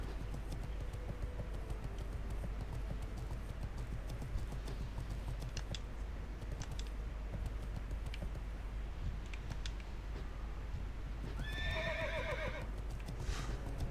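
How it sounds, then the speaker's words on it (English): A horse neighs in World of Warcraft Classic, a sharp whinny breaking out near the end over a steady background hum, with faint clip-clop hooves and keyboard-like clicks scattered throughout. "Calm down, horse."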